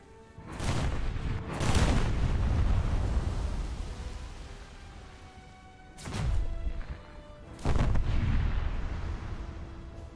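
Heavy naval artillery booms in a warship video game, with several big blasts at the start and two more near six and eight seconds, each followed by a long rumbling decay.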